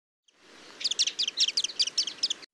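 A Ceylon white-eye gives a quick series of about nine high, thin chirping notes in an even rhythm, close and clear over faint background hiss.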